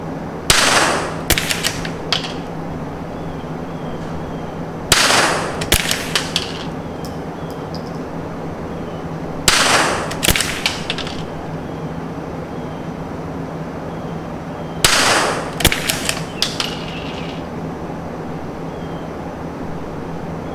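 A Tikka .22 LR rifle fires four sharp, loud shots about five seconds apart outdoors. Each crack is followed by a brief clatter and a fading echo.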